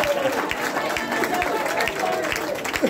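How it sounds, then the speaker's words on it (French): An audience applauds at a ceremony for graduating actors and comedians: a brief, steady burst of many hands clapping at moderate volume from a crowd in a hall. "Applaudissez pour moi."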